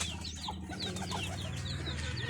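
Backyard chickens and chicks behind a house cluck and peep, with a rooster's low calls and thin chick chirps overlapping continuously at close range.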